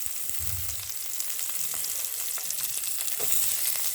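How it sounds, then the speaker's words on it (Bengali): Chopped onion hisses steadily in hot oil that already holds fried bay leaf and black cumin for a tengra fish jhal, a continuous close sizzle with faint stirring scrapes and no talking. "পেঁয়াজ কুচিটাকে ভালো করে নেড়ে চেড়ে হালকা করে ভাজতে হবে"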